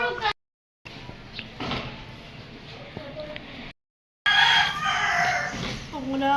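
A rooster crows in a Filipino village setting, a loud nearby call broken by brief silent gaps, with other fowl clucking and people talking throughout.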